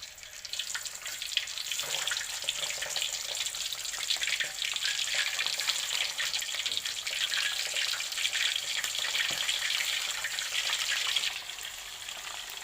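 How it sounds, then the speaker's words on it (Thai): Steady, loud crackling sizzle of chicken wings frying in hot oil, a continuous hiss with small pops throughout. "พอน้ำมันเดือดก็ย่อนไก่ลงไปทีละชิ้นนะคะ"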